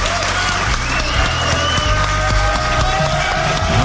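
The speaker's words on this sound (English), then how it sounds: "let's hear it for Maura." An audience at a farewell final morning show for a New York radio station applauds steadily and loudly throughout, with dense clapping and some crowd noise.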